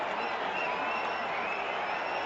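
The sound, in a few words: cricket crowd cheering for India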